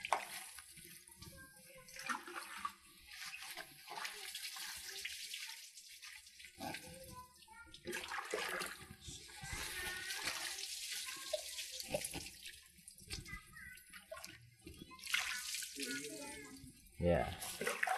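Water splashing and running while soap is rinsed off a person's face and body, with broadband bursts throughout under nearby talk.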